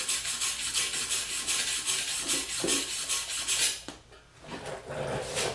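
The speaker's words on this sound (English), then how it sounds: "give it a couple good brushes, just enough to kind of shine up the metal a little bit" A wire brush scrubs and scrapes a stainless steel joint on a custom mower gas tank before welding, a steady close rasping that runs for several seconds, dips briefly, then resumes.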